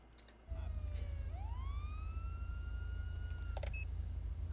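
A police siren in the video game GTA 5 wails in a rising and falling sweep from a sheriff's Tahoe, then cuts off, over a constant low engine rumble.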